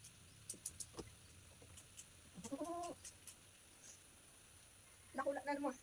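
A chicken clucks and cackles faintly in short bursts, with a louder flurry toward the end, heard at a distance amid quiet rural background noise and light chatter.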